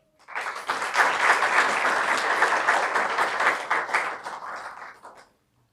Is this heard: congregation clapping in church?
yes